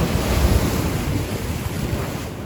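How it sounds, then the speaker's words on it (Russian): Rough Black Sea surf crashes and roars continuously at night on the Yalta embankment, with heavy wind buffeting the microphone; no voices, just a dense churning wash of stormy waves. "Волны увеличились"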